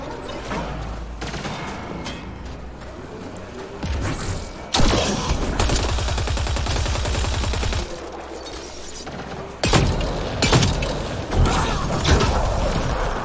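Gunfire in Mass Effect Andromeda on the icy world Voeld: loud bursts of rapid automatic fire with single heavy shots and mechanical clanks, alternating with short quieter lulls across the whole stretch.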